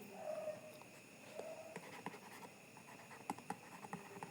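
Pen or marker writing on a board or paper during a biology lesson, a series of faint, scratchy strokes at close range with soft pauses between them and no talking.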